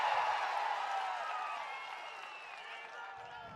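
A large crowd applauds and cheers at an open-air political public meeting in Bobbili, a loud, steady wash of clapping with a few whistles that eases slightly toward the end.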